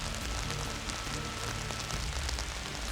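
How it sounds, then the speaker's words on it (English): Rain falls steadily outdoors during a bucket-holding endurance challenge, a constant, dense hiss of drops hitting surfaces with no gaps or talk. "The rain does not make this challenge easy."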